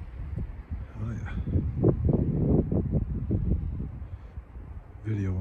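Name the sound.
wind on a mountain hike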